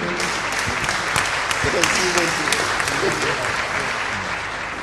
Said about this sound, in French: Merci, applaudissez-le.